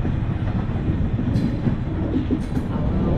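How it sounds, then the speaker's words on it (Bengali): An evening passenger train pulls out of Howrah station from platform 18, heard from inside as a steady, loud low rumble with faint metallic squeaks. "বিকাল 5টা 25-এ আমাদের ট্রেনটা ছেড়ে দিল হাওড়া স্টেশনে 18 নম্বর প্ল্যাটফর্ম থেকে"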